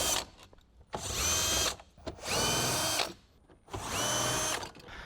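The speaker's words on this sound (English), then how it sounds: "You can use a power tool, or you can use a ratchet with a 10mm socket" A power tool whirs in three sustained bursts, each about a second long, with short pauses between as it backs out 10mm bolts on a 2016 Toyota Camry.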